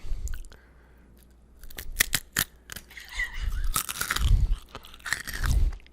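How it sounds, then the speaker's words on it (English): Takis Fuego hot pepper chips crunch loudly and close up as someone bites and chews, producing a string of sharp snaps followed by heavier chewing crunches, with no talking. "Hear that crunch?"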